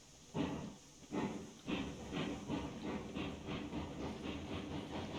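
A steam locomotive pulls away in the Railroads video game, with rhythmic bursts of exhaust chuffing and hissing steam that repeat steadily and draw closer together as it gathers speed.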